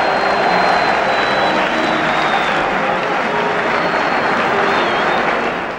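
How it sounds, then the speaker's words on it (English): Football crowd roaring as the West Ham United team walks out onto the pitch, a loud continuous wash of stadium noise with a faint high whistle-like tone drifting through it. "there's the crowd as they go out onto the pitch"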